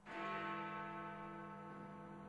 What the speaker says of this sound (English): London rang in 2013 to the chimes of Big Ben